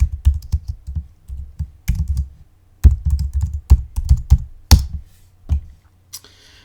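Fingers type on a computer keyboard in a terminal, loud close clacks in quick irregular bursts with short pauses between groups of keystrokes, and no speech.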